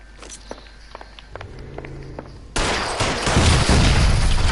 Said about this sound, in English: shoot the barrels to destroy the wall